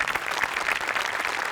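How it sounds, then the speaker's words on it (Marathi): Loud, dense applause from a studio audience at a Marathi comedy show, steady and sustained throughout with no pause. "एकदा जोरदार टाळ्या व्हायला पाहिजेत"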